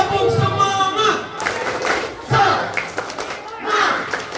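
An audience at a school reproductive-health talk chants and claps the Indonesian 'tepuk semangat' spirit clap together: loud, near group voices broken by a few sharp bursts of clapping.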